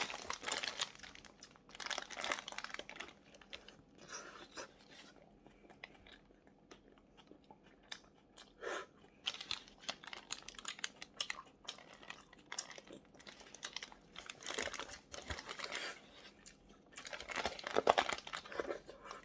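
A No Brand coleslaw chicken burger is eaten close to the microphone: paper wrapper crinkles alongside bites and chewing in irregular bursts, with no talk.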